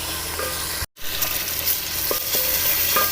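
Boiled chickpeas roast in a hot pan for pulao, with a steady close sizzle and the scrape and clatter of stirring, broken once by a brief gap.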